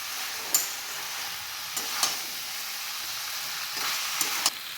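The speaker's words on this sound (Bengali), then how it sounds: "মশলাটার সঙ্গে খুব ভালো করে এঁচড় আর আলুটা মিশিয়ে নিচ্ছি।" Jackfruit and potato being stirred into a frying spice mix in a pan, an even hissing sizzle broken by a few distinct scraping strokes and taps, close by, no talking.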